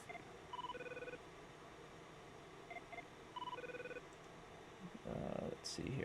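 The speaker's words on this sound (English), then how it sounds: "I had them send me the file, which was just a CTU ringtone" A CTU ringtone plays from an MP3 file as a short electronic beeping pattern, faint and repeated in bursts, followed by a brief louder rustle near the end.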